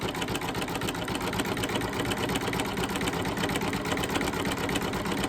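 Embroidery machine stitching fabric, a fast steady mechanical rattle and hum that runs evenly without pause.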